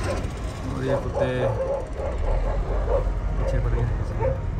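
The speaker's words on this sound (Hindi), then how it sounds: "और ये कुत्ते" Several dogs chase a vehicle on the road between Hoshiarpur and Jalandhar, giving repeated yips, barks and whimpers over the hum of a moving car while people talk.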